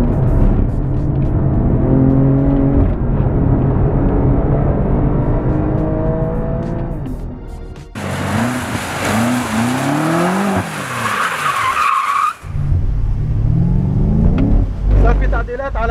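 A BMW M5 and an M2 Competition drift on a race track. Engines rev and rise in pitch with long tire squeals, close and loud, and a voice is heard partway through.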